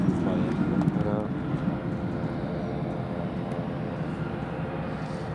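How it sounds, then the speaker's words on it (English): A British Airways Airbus A319 taxiing in at Newcastle International Airport, heard as a steady low engine rumble and whine throughout, with people talking nearby over it. "That is the British Airways 319 just taxiing in now, folks."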